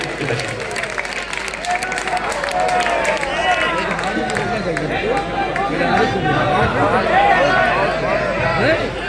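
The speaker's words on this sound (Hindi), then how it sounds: "पुरजोर तालियों के बीच तशरीफ लाएं और अपने तालियां थोड़ी सी बुलंद करें" Audience at an all-India mushaira poetry gathering at a college in Maudaha, Hamirpur, applauds with steady, loud clapping throughout, mixed with crowd chatter and voices speaking over it.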